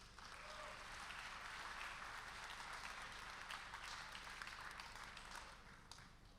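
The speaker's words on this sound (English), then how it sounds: "please give Maddie a big round of applause" A conference crowd at an Ethereum developer kickoff in Lisbon applauding to welcome a speaker, a soft, steady spread of clapping heard from some distance that fades slightly toward the end.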